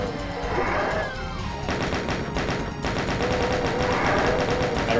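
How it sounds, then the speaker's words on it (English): Chain gunners firing in the Doom TNT level Duality, dense rapid gunfire rattling continuously from several directions, loud and close, with crashing hits and a brief lull midway. "I see always chain gunners shooting at me from every direction"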